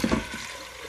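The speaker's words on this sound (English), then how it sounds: "Add water, as you can see." Water poured into a pressure cooker holding corn, a short close splash and gush that quickly settles into a low steady trickle, with no talk.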